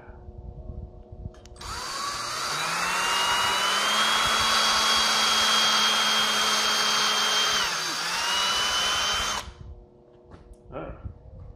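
A power drill bores holes through a metal drip cap, its steady, loud whine running close for about eight seconds before winding down and stopping.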